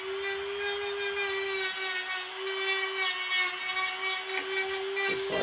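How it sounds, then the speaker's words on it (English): Round power sanding tool smoothing a surface, a steady high motor whine with a strong constant tone and gritty rubbing noise, close and continuous. "a little sanding, whatever you'd call this, the round sanding thing"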